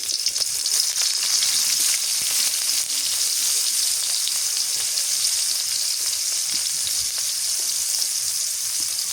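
Chopped onions frying in hot oil for a cauliflower and fish curry, a continuous bright sizzle that stays even and unbroken, close to the pan with no voices.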